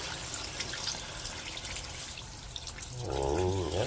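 Water is poured into a pot of chicken tinola, a soft, trickling splash that builds into louder gurgling pouring at the end, with faint background clatter beforehand.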